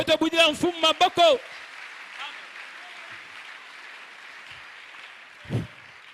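A church congregation applauds and acclaims the Lord, opening with a few loud voiced shouts, then a soft sustained wash of clapping and cheering in the background, with a brief thump near the end.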